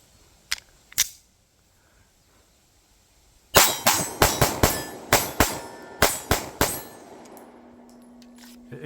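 A Fusion XF Pro pistol fires about eight sharp, loud gunshots in a quick, slightly uneven string, fed from a Glock 17 PMag, after two quieter clicks near the start.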